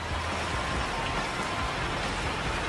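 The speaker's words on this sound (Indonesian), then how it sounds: "Aduh bro, kaburu hujan ngegebret ini teh." Steady, heavy rain pours outdoors at a fishing spot, a dense even hiss filling the whole moment with no talk.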